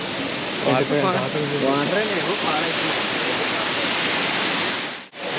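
A waterfall in Coorg roars as a loud, continuous broadband rush, with a few people's voices chattering faintly over it early on before the water noise carries on alone.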